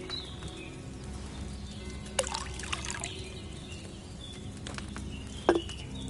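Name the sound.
pouring wine into a cauldron in Kingdom Come: Deliverance II video game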